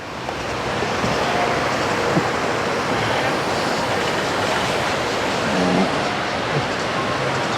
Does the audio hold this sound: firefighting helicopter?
no